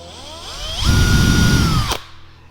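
A handheld power drill fitted with a normal bit bores a hole for a box hinge lid. It spins up close and loud into a steady whine for about a second, then stops abruptly.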